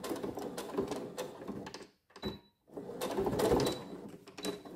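A sewing machine stitches a coin purse in fast mechanical bursts of forward stitching, stops briefly, then runs on for a backstitch and forward finish, close and moderately loud.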